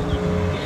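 A speedboat engine runs at a farm, a loud, steady low motor drone close by, with a faint voice in the background.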